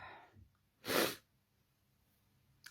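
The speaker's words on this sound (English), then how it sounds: "Here I go again. Sneezing." A single sharp sneeze from someone at home bursts out close to the mic after a brief intake of breath, followed by quiet and a faint snort.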